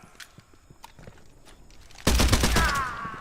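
Gunfire in the survival shooter game Pioner: after quiet footsteps and scattered clicks, a loud, sustained burst of rapid shots erupts and rings out close by for over a second.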